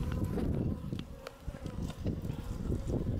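A dense, steady buzzing of many aggressive Africanized bees swarming close by from a large hive inside a roof, with some rustling and wind noise mixed in.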